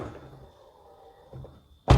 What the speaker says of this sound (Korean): 문을 열 때만 스텝이 오픈을 하게 됩니다.